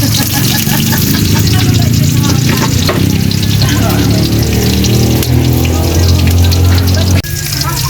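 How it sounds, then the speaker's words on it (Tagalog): Tilapia being sautéed for sarciado in a pan over a wood fire, a loud, steady sizzle and hiss with stirring scrapes throughout, briefly dropping near the end. "igigisa na po tayo"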